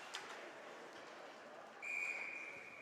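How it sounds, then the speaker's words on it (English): Referee's whistle at a boys' prep school ice hockey game, one steady shrill blast lasting about a second, clear over the constant arena crowd murmur. "And we have a whistle."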